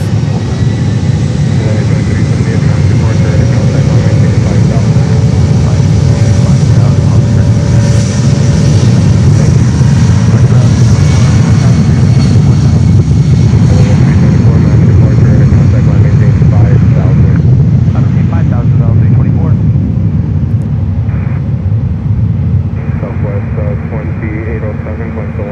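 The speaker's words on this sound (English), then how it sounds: "Delta 757-200, takeoff." A Delta Boeing 757-200 jet roars down the runway on takeoff at Fort Lauderdale-Hollywood International Airport, a loud sustained engine rumble with faint radio chatter in the background.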